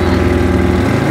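An Audi R8 engine launches hard off the line in a drag race against an RSQ8, giving a steady, loud, close mechanical drone with a pulsing low rumble and a slight bog, heard alone.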